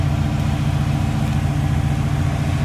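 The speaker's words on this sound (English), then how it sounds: "Runs, and that fuel pump does not sound good." A Chevrolet Impala engine with a failing fuel pump idles steadily with a constant low, throbbing rumble and no other sounds.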